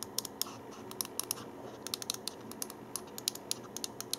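Side buttons on a Thermaltake Tt eSPORTS Volos gaming mouse clicking, a run of about two dozen sharp, quiet clicks in small irregular clusters, close up against a faint background hiss with no talking.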